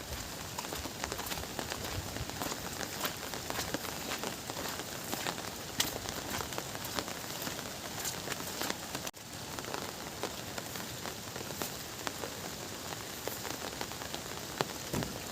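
Steady monsoon rain pours down near a river in the Konkan region, pattering densely on surfaces with a constant hiss and scattered louder drops throughout.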